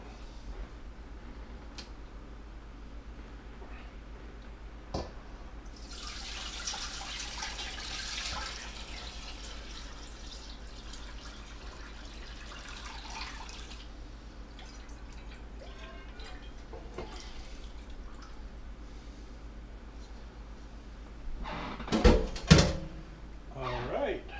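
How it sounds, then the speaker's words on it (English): Brine pours over a whole chicken in a steady splashing stream for several seconds, then trickles off; later a few close clunks and handling noises. "So I'm going to pour it over the chicken and get this thing brining."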